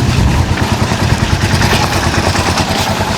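A motorcycle engine, freshly tuned up, runs steadily up close, loud and continuous with a clattery mechanical rumble and no talking.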